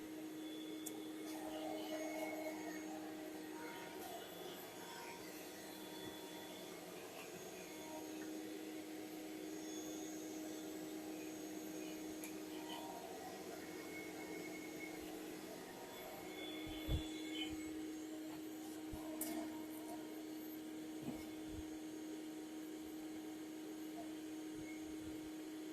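A bee vacuum hums steadily with a constant whine during removal of a beehive from a rotting tree, faint and continuous, with occasional clicks and knocks.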